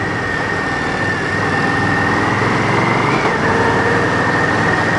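A 2016 Indian Scout 60 motorcycle engine running while riding, a steady loud drone with wind-like rumble throughout and a slight rise in pitch midway, with no talk.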